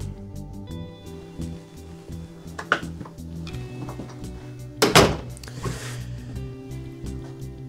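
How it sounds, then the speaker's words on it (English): A single thunk as a drawer slides out and stops beneath the counter in a 2022 Riverstone Legacy 39RKFB fifth-wheel RV kitchen, with lighter knocks before it over a steady low hum. "Pull out drawer down below."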